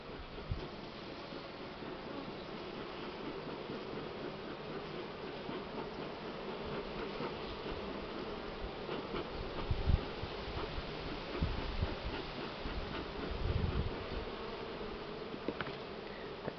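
Buckfast honey bees buzz around a hive on a windy day, a continuous dense hum close by with occasional bumps and louder passes, and no voices.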